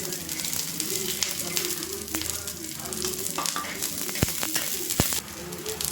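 Garlic and ginger roasting with coconut in a pan crackle and sizzle steadily at close range, with stirring scrapes and a couple of sharp knocks. Faint bird cooing sounds in the background.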